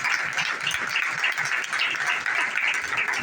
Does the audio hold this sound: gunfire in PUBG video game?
no